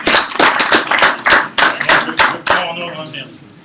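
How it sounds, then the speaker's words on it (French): An audience applauding after a talk about economics, a short burst of brisk, loud clapping close by that quickly fades out, with some voices mixed in. "On va les applaudir."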